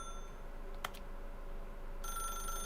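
A telephone in a video game starts ringing with a thin electronic trill that begins partway through, preceded by a brief click, moderately loud over quiet room tone.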